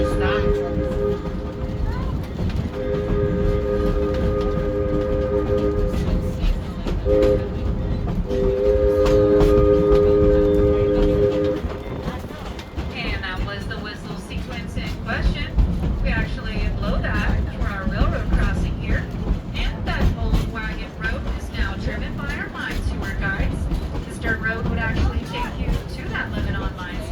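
The Georgetown Loop Railroad train runs along the track with a steady rumble and clatter while a multi-tone horn sounds in several blasts, followed by continuing wheel and rail noise close by.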